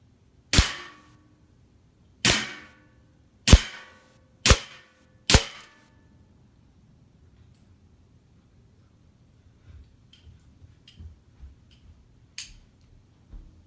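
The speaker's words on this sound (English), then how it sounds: "10 feet. Shooting from a rested position. Semi-rested." An airsoft pistol fires five sharp, loud shots at a target from about 10 feet, spaced a second or so apart. Faint ticks and small knocks follow in an otherwise quiet room.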